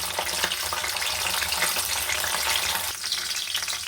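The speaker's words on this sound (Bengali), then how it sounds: "দেখুন কাজু কিশমিশটা ভাজা আমার হয়ে গেছে" Cashews and raisins fry in hot oil with a constant loud sizzle, broken briefly near the end by a stirring scrape.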